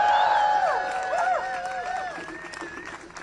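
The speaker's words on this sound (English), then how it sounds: "let's have another round of applause for Jacob Miller" A crowd at a Harvard protest rally applauds, with a dense wash of clapping under loud whoops and cheering voices that fade slightly over a few seconds.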